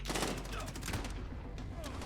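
Rapid bursts of gunfire from a gun in the Modern Warfare video game, loud repeated shots in a dense fusillade lasting about two seconds, with a voice talking over it.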